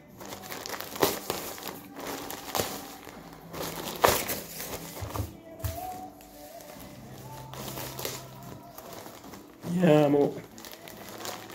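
Packaging of a FIFA World Cup 2014 Xbox 360 game is torn and crinkled open, with irregular close crackling and rustling bursts while people talk throughout.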